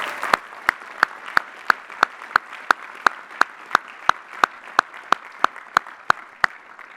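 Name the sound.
commencement audience applause for family and friends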